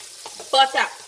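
Butter for Nigerian party jollof rice melts in a hot dry pot over the fire, giving a brief, close sizzle that surges in a couple of louder bursts with faint stirring scrapes.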